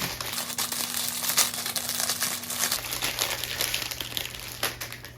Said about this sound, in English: Take the plastic off.